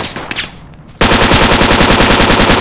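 Sustained machine gun fire from the tactical shooter game Project Reality: after a second of quieter background, a loud, rapid and steady burst of automatic shots runs continuously to the end.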